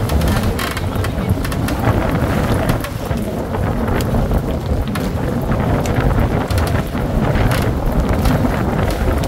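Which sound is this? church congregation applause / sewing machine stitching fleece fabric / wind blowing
wind blowing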